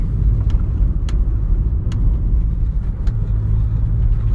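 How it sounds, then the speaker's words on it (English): A VW Passat B5 turbo engine pulls at full throttle in third gear with no boost, a loud steady low rumbling drone from inside the car with a few faint clicks. "That's full throttle right there. No boost."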